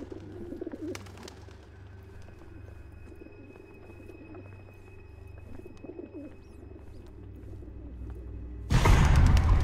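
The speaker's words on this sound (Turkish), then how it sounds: "Bir sürü kuş var burada." Pigeon-like cooing from several birds in the video game Observer, soft repeated calls under a low ambient hum, ending in a sudden loud burst of noise.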